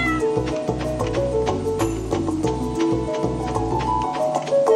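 Cat meowing in the farming video game Stardew Valley, heard over steady in-game background music with ticking percussion, the meow blending into the continuous soundtrack.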